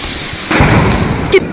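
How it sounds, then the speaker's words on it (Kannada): A large firecracker set off during Diwali celebrations lets out a sudden loud blast partway through, then a rough, sustained crackling roar and a sharp pop near the end. "ದೊಡ್ಡ ಪಟಾಕಿ ಹಚ್ತಿದ್ಯಲ್ಲೇ"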